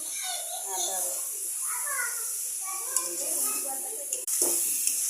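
Meat curry with raw and fried onions and garam masala cooks in a pot with a steady high sizzle, while voices, including children, talk loudly over it outdoors in a Bangladeshi village.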